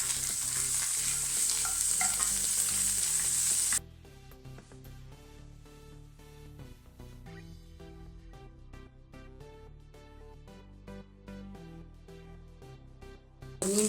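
A mixture for habala pethi (garfish) fish cutlets frying in a pan with salt, pepper powder and chili flakes. A loud, hissing sizzle gives way to quieter frying with repeated clicks and scrapes of stirring.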